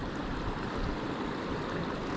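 Meltwater from snow patches runs down a mountain slope in the Pyrenees, making a steady, even rushing hiss with no break and no voices.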